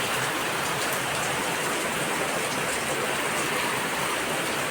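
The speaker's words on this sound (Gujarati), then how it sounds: "હજી ચાલુ જ છે વરસાદ હજી ફૂલે ફૂલ ચાલુ છે" Heavy rain pours steadily, a dense, constant hiss of drops close by with no pauses or voices.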